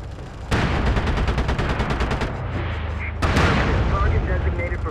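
Artillery fire in the military shooter MAG, with heavy, continuous rapid blasts and booms that roll into a sustained roar, close and loud, and a second burst of impacts breaking out partway through.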